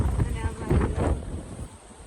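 Strong wind sweeps across a farm field at sowing time, roaring and buffeting close to the microphone in steady low gusts that ease slightly near the end.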